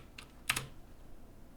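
A few quiet keystrokes on a computer keyboard as a number is typed in, a small cluster of soft clicks against a hushed room with no speech.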